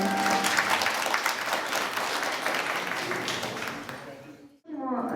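An audience at a public event applauds, a dense rolling round of clapping that fades out, then a voice begins speaking briefly at the end.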